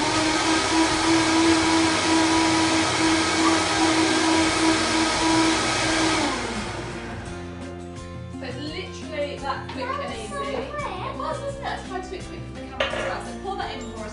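Blender whirring loudly through a kids' smoothie of banana, milk and ground almonds, a steady motor drone for about six seconds that then cuts off, followed by clinks of dishes and people talking.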